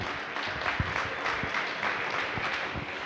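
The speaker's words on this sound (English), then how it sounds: "So give yourself a round of applause," An audience at a civic celebration in Bayview, San Francisco, gives a round of applause, a steady wash of clapping, fairly soft and distant, running unbroken for a few seconds.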